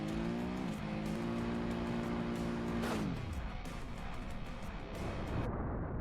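In a car crash video game, an engine revs hard and climbs, then its pitch drops sharply as the car ploughs into a pile of mattresses, followed by a rough rumbling slide and scraping.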